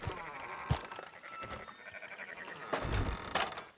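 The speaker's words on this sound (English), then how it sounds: "Fine sheep." Sheep in the Red Dead Redemption 2 video game bleating several times across a few seconds, close and fairly loud, over a busy backdrop of game ambience and clatter, with no voices.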